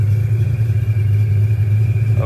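Car engine humming steadily from inside the cabin on a morning coffee run, a low constant drone with a faint higher whine, no voices.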